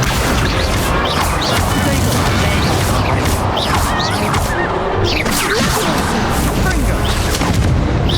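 Spell combat in Hogwarts Legacy, with fiery Confringo blasts and impacts landing amid constant loud battle noise, several booms and crashes over a dense, unbroken din.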